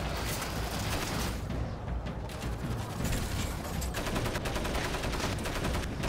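Sustained rapid gunfire from a frozen, immobilized vehicle's mounted gun in Crysis Warhead, a dense continuous roar of shots with battle noise, loud and steady throughout with no talking.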